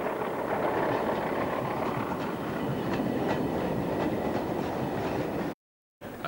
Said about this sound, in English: This Class 40 is hauling a northbound Speedlink service consisting largely of railway-owned